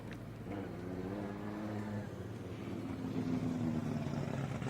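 Bullseye's drift car warming up a fresh set of rear tyres at a Drift Kings Asia Cup event in Malaysia: a steady engine drone with rising revs and tonal whine, building louder toward the end, with no talk.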